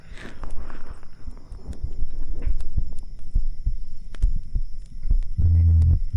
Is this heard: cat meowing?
no